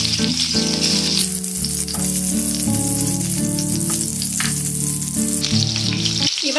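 Pointed gourd (potol) fries in hot oil over a medium-low flame, a continuous bright sizzle running under loud background music throughout.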